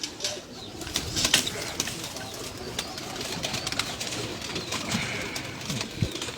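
Pigeons on a Lahore-area rooftop loft coo softly amid scattered wing flaps and faint rustling, several birds close by with no talk.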